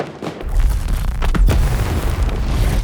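Festive fireworks bursting over Dragonport during a video game's Lunar New Year event, a dense run of deep booms and rumbling blasts, loud and close, with no talking.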